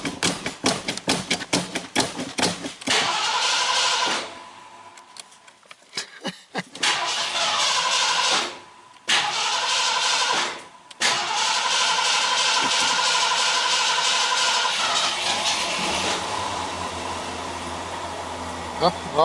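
A 1978 Mercury Marquis with a flooding fuel problem cranks over and over, short clipped starter bursts at first, then long grinding stretches broken by pauses, the engine never catching; close and loud, with occasional voices.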